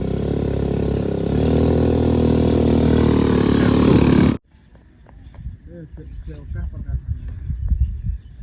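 A motorcycle engine roars loudly up close for about four seconds on a rural path past a corn field, then cuts off abruptly, leaving quieter rustling and a voice.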